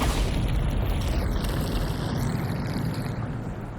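Bombarda spell explosion in Hogwarts Legacy, a loud, deep rumbling boom that sustains and slowly fades over several seconds.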